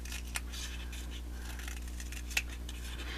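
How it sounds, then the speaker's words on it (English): Scissors snipping a paper strip freehand into scallops for a paper flower craft: two faint, crisp cuts spaced about two seconds apart over a steady low hum, with no talking. "all you're going to do is free-handed cut it into scallops like this"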